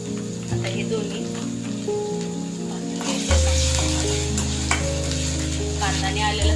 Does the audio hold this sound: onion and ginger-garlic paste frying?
yes